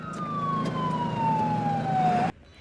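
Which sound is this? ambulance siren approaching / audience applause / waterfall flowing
ambulance siren approaching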